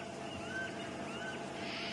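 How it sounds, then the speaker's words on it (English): Wild bird calling outdoors on an African safari drive, a few thin, whistled rising notes repeated twice at a distance over a soft background hum, faint and with no talk. "Now, can you hear a very interesting bird calling?"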